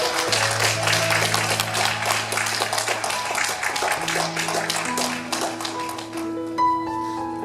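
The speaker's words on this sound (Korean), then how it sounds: "박수로 축하해드리겠습니다" Church congregation at a Sunday service applauding to congratulate a newly appointed associate pastor: a steady patter of clapping runs through the whole stretch beneath sustained organ or keyboard chords.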